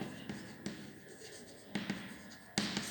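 Marker or chalk strokes on a classroom board sound as short scratchy bursts in an uneven rhythm, a few taps and squeaks close by, fairly quiet.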